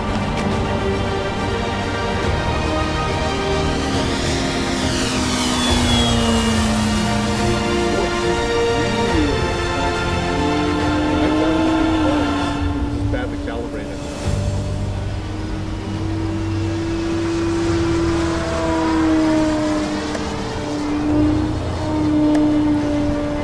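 E-flite Extra 300 3D RC airplane, 1.3 m span, making a low pass over a runway: a steady electric motor whine that rises and falls in pitch as it sweeps past, with loud wind-blown rumble throughout.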